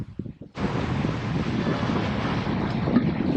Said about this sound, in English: nice to have a cool breeze, 16 knots of wind